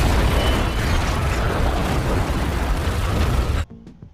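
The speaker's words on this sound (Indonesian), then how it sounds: "mobil yang dinaiki oleh Kellen meledak begitu saja." Car exploding in a film scene, a loud sustained roaring blast with rumbling debris that lasts several seconds before cutting off abruptly into near silence.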